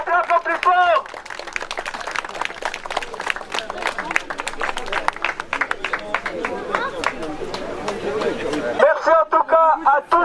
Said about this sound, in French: On peut l'applaudir s'il vous plaît un peu plus fort.